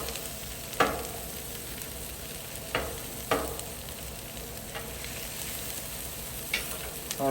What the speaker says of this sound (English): Go ahead and spread our onions around here a little bit.